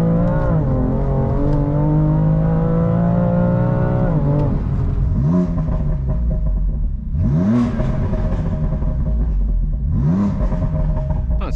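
A 530 bhp BMW M3 Competition revs hard through the gears, its deep engine note climbing steadily, dropping at each shift and climbing again, loud and close from inside the car with no talk over it.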